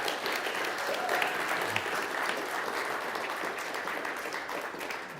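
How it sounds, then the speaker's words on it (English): An audience gives a round of applause, dense continuous clapping that holds steady for several seconds and tapers only slightly toward the end. "So can we give a little round of applause for all those people?"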